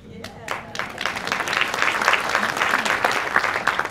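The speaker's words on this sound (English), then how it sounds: "Thank you, front row, for that applause." A conference audience applauds during a Broadway co-producer's question-and-answer session, a dense, loud wash of clapping that builds quickly after a few sharp opening claps and holds steady to the end.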